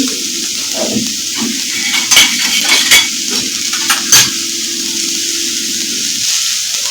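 Moth beans (matki) sautéed with salt in a pan for Kolhapuri misal give a steady close sizzle, broken by a few sharp spoon clinks and scrapes against the pan.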